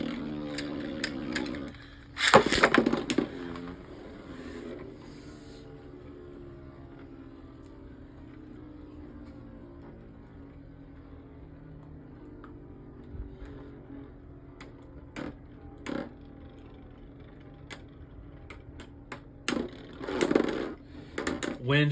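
Beyblade spinning tops clash in a plastic stadium: a loud burst of clattering hits, then a long faint whirring spin, with scattered sharp clicks and another clattering flurry at the end.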